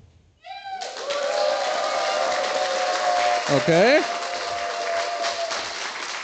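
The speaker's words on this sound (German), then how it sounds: "Nochmal den Applaus für Jasmin und entscheidet euch jetzt." An audience applauds during a prompt battle vote, a steady roar of clapping building after a brief pause, with a short spoken word near the start and a falling whistle-like tone midway.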